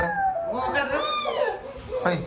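A voice imitates a cat, drawing out a rising and falling meow, followed by a short second call.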